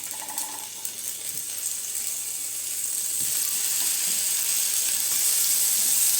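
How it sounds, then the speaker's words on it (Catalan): A steady hiss of tomato sizzling as it fries in a hot pan, growing slightly louder and denser over several seconds, with no voices. "Ja tenim la paella calenta i posem el tomàquet."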